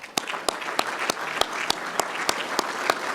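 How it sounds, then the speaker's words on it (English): Audience applause in a conference plenary session hall, a steady wash of many hands clapping with distinct individual claps standing out, sustained evenly throughout at moderate volume. "Please give a round of applause for ThyssenKrupp"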